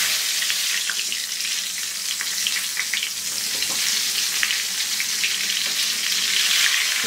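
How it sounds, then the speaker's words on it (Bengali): Eggplant fries in hot oil in a wok, a steady close sizzle and crackle with scattered small pops that runs throughout, with no talking. "এই বেগুনটাকে ভেজে নিতে হবে আমার।"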